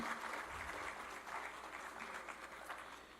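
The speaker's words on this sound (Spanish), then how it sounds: "Un aplauso, por favor." An audience applauding symposium panelists, a steady wash of many hands clapping in a hall that holds even for several seconds, moderately distant, with no speech over it.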